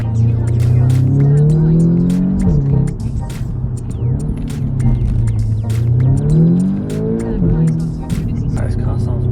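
A car engine revs up and down repeatedly while driving, rising and falling in pitch, loud and close.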